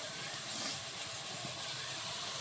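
Potatoes added to hot spiced oil for aloo dum, giving a dense, continuous sizzling hiss that holds steady and fairly loud throughout, with no speech.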